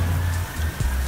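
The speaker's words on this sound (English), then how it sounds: "It's raining." Rain falls in Brazil as a steady, even patter and hiss, moderately loud and close, with no voices over it.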